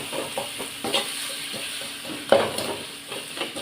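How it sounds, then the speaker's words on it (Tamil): Brinjal sautéed in oil in a kadai for pepper brinjal, with a soft steady sizzle broken by a few clinks and scrapes of a spoon stirring against the pan, close and fairly quiet. "கத்திரிக்காய் எல்லாத்தையும் போட்டு பாருங்க, நல்லா வதக்கிக்கிறேன்."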